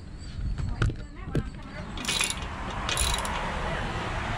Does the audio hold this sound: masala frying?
no